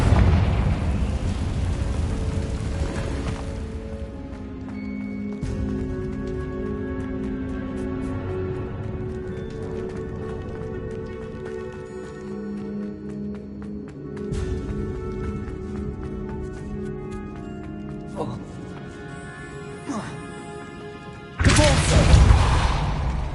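A Confringo fire spell detonates in Hogwarts Legacy with a loud, roaring blast that fades into tonal background music, then a second sharp burst erupts near the end.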